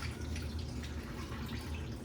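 Buttermilk brine for smoked chicken legs is poured into a container, giving a faint, close liquid trickle and dribble that runs steadily and quietly throughout, with no talk over it.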